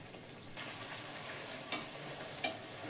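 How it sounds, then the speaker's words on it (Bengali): Sabudana (sago) luchi frying in hot oil gives a faint, steady bubbling sizzle with a few soft stirring clicks near the end. "তো এইরকম করে আমি সবকটা ভেজে নেব।"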